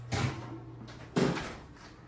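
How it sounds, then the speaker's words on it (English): An oven door is shut in a home kitchen during bread baking, giving two soft, close thuds about a second apart with quiet room tone between. "go back and close the oven, turn it off"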